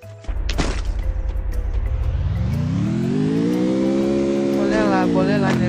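A car engine in the game Free Fire idles low, then revs up steadily into a rising, sustained roar that holds loud and close.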